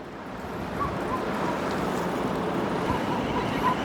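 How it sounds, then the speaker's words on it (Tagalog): Steady, roaring wind noise from a sandstorm in Saudi Arabia, a constant broadband rush sustained throughout without letup. "Ang lakas ng hangin."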